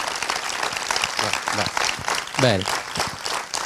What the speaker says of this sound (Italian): Immagino vi sia piaciuto con questo applauso.